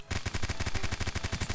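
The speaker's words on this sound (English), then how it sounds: "Oh shit, shots all over me." Rapid automatic gunfire in the survival shooter Apocalypse Rising 2, a steady string of about twenty sharp, evenly spaced shots ringing loud and close across the whole moment.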